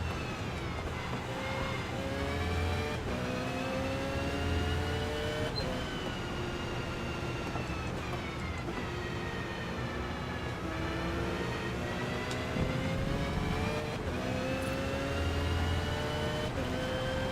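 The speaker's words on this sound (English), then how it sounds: "this Porsche definitely got some acceleration" Porsche race car in Forza Motorsport, engine revving up and dropping back repeatedly through gear changes, a steady close drone with rising pitch sweeps and faint surrounding cars.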